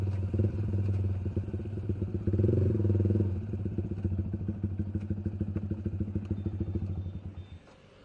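A Yamaha R15 motorcycle idles close by with a rhythmic low thumping, gives one short rev, then settles back to a steady idle that fades near the end.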